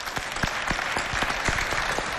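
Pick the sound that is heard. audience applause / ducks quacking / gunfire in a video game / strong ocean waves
audience applause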